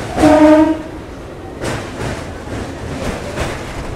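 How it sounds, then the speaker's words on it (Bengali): A local train on the Kolaghat bridge over the Rupnarayan river sounds a loud horn blast at the start, then its wheels keep up a rhythmic rumble and clatter across the span. "কোলাঘাট ব্রিজ পার করছে।"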